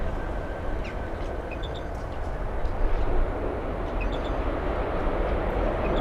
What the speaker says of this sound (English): American Airlines 737 flying in from Mexico City